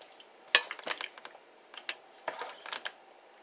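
A spoon stirring hamburger soup with canned diced tomatoes in a crockpot, making scattered close clinks and scrapes against the pot in an irregular rhythm, fairly faint and with no voices.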